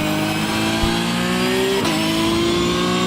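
A Porsche race car engine in the iRacing sim holds a loud, steady rev with clear harmonic tones, briefly dipping in pitch partway through before carrying on, with no voice over it.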